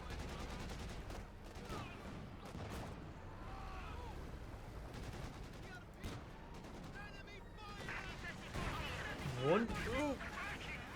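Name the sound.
submachine gun and rifle fire in Company of Heroes 2 video game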